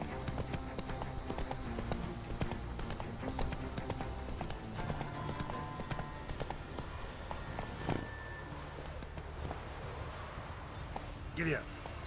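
Horse hooves clip-clop at a gallop in the video game The Witcher 3, a quick repeating pattern under game music and sound effects, with a brief sharp sound near the end.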